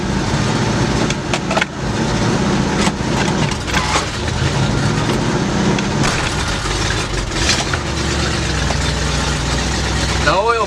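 A 1965 Ford Galaxie engine with a freshly rebuilt Edelbrock carburetor runs loud and close in a steady rumble, with clunks and rattles mixed in and a voice heard under it.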